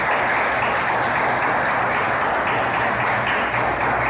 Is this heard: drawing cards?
no